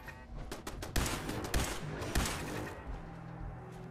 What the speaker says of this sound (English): There's a turret on top of the building.